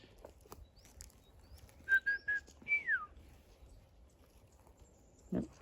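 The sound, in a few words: person whistling back to imitate a bird's song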